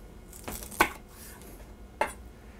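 A big knife trims the bottoms off chicken drumsticks on a cutting surface, giving two sharp, close chops about a second apart with quiet handling in between.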